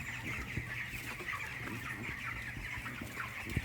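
Broiler chickens about 23 days old clucking while feed is poured for them, a dense chorus of soft overlapping clucks and chirps with small taps and rustles, steady and fairly quiet.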